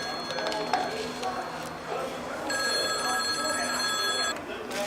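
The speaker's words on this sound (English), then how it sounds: "Hand me that phone." A telephone rings out in a busy room as people talk nearby, its steady electronic trill sustained over the chatter for a couple of seconds.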